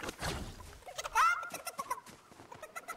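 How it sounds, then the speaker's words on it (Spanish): A chicken in the video game Fortnite clucks and squawks in short, repeated bursts over a busy run of clicks and game sounds, with no talk heard. "Mira, aquí está la gallina, Juanito."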